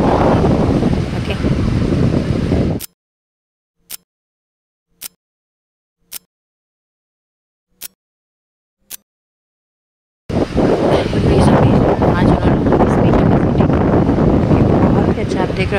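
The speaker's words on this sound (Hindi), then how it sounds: "देख रहे हवा कितनी ज़ोर ज़ोर से आ रही है" Strong wind blasting into the microphone in Japan: loud, roaring buffeting for a few seconds, a stretch of near silence broken by several brief clicks, then the heavy gusting roar returns.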